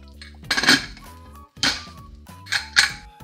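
Rice, chicken and water for pulao stirred in a metal pressure cooker pot, with three bursts of clanking spoon-on-metal scrapes, close and fairly loud over soft background music.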